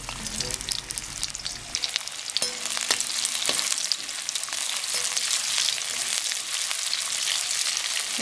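Onion hits hot oil for vegetable noodles. A few utensil knocks come first, then a loud, continuous crackling sizzle builds and carries on steadily, with no voices.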